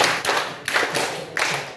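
Group hand clapping in an icebreaker counting game, several bursts of claps in loose rhythmic groups, close and fairly loud, with no talk over them.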